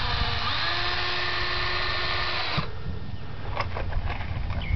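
Power drill driving screws into trim on a rehabbed barn, a steady whirring motor tone for a few seconds that stops abruptly, followed by faint knocks and handling noise close by.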